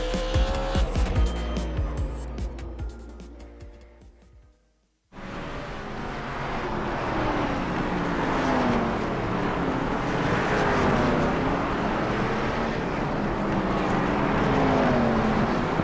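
Race cars in an eRacing game lap Southern National Speedway, a short, steeply banked oval. A dense, loud roar of engines and tire noise follows a quieter opening that cuts off abruptly.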